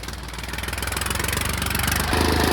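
A New Holland 39 HP two-wheel-drive tractor engine runs nearby in a field with a rapid, even throbbing pulse that builds slightly in loudness and steps up near the end, with no voices.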